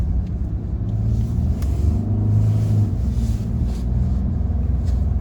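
A 2021 Ford F-150 PowerBoost hybrid pickup drives through deep snow in deep snow/sand mode, its engine a loud, steady low rumble that rises slightly mid-way as it pulls, with no voices.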